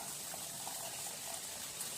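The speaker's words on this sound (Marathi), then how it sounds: "याच्यात आपण आता पाणी घालू गरजेनुसार" Water is poured into a cooking pan holding a browned gram-flour mixture for zhirka, a soft, steady gushing splash that stays faint and even throughout.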